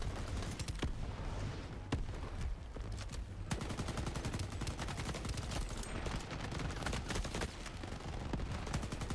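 Dense, loud gunfire in the co-op mode of the shooter game Shatterline, rapid automatic bursts and overlapping shots continuing nonstop with no talk.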